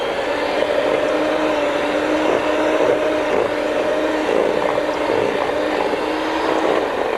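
An electric mixer beats softened cream cheese in a kitchen, a steady whirring motor hum running continuously at moderate loudness with no speech.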